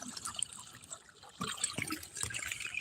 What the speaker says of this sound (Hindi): ये कैसे पानी जा रहा है खेत पर